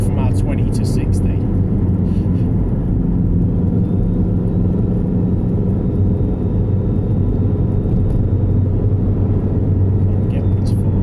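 A Vauxhall Astra VXR fitted with a big turbo pulls hard along a road in fourth gear, its engine a loud, dense, continuous rumble heard from inside the car.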